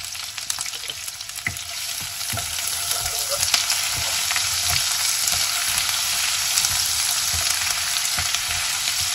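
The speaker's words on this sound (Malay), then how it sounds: "Tapi kena tumis ini. Bahan kisar dulu ya. Masukkan bumbu daun aromatik." Blended chili paste with galangal, onion and aromatic leaves sizzling and frying steadily in oil previously used to fry prawns, with intermittent stirring scrapes and pops close up, no talking.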